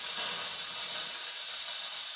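A new pressure cooker in a home kitchen vents steam in a continuous loud, steady hiss that lasts the whole stretch with no break, close by and without talk.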